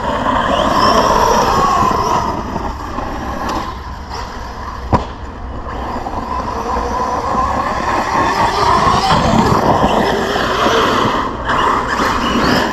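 A 6S RC car, a Team Corally Kagama or Arrma Big Rock, tearing around a track with a continuous high-pitched electric motor whine rising and falling as it speeds up and slows, plus gravelly rolling noise.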